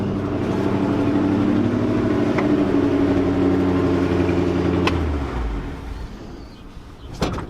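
A 1966 car, parked for over 33 years, drives slowly in low gear with a close, loud engine drone that holds steady, then eases off, ending with a couple of sharp clunks.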